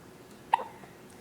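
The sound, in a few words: baby hiccuping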